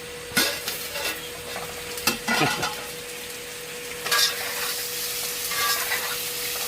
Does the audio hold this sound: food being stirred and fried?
yes